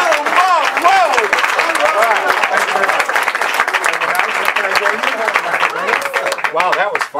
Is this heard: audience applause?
yes